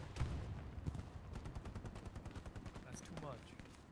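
Rapid video-game gunfire crackles in quick repeated bursts throughout, fairly faint and compressed, with a brief voice near the end.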